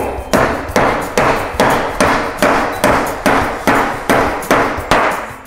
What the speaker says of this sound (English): my hammer. Oh, love my hammer.